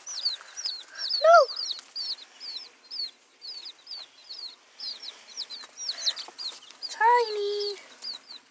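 Baby chicks peep rapidly and repeatedly, with occasional soft clucks. The chirps are steady and close, with brief louder calls breaking in.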